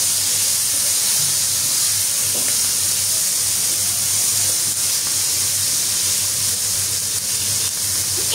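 Chicken coated in spices frying in a pan just after a splash of water is added, for a chicken dish with chana dal and vegetables, giving a loud, steady, continuous sizzle and steamy hiss with no talking.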